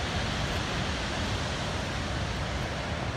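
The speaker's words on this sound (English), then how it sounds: "Skogafoss waterfall." Skogafoss waterfall in Iceland pours down onto volcanic rock in a steady, dense roar that holds even and unbroken throughout, with no voices over it.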